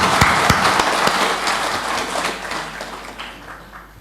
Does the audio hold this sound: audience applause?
yes